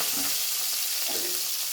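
Chopped onions and fennel seeds sizzle steadily in hot oil, a continuous close frying hiss with faint stirring scrapes and no voices.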